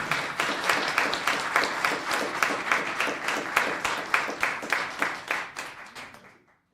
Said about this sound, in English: So another round of applause for Laurel.